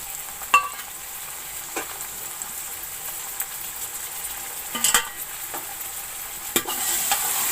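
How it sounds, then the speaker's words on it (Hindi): A kilo of previously frozen chicken fries in a pan for Kashmiri chicken pulao, a steady close sizzle broken by a few sharp clinks and scrapes of a spoon against the pan. "अब इस चिकन को मैं थोड़ी देर भून लूँगी।"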